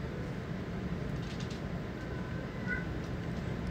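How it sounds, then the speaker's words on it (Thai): A female cat meows a few times at moderate distance indoors, short whiny calls over a constant background hum. "แมวร้องค่ะแมวร้องคงไม่ผิดกฎค่ะ"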